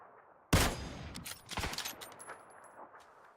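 PUBG gunfire: a sudden loud shot opens, followed by a ragged string of quieter shots and impacts that trail off.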